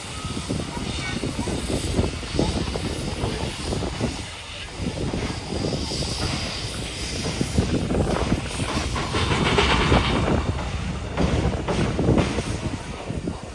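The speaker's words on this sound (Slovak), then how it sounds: "Krásny rozbeh, Štoker 5560." Steam locomotive 5560 pulling away at a Bratislava steam locomotive show, a loud, dense chuffing and rumbling with rail clatter and hiss building steadily over the whole stretch, crowd noise mixed in.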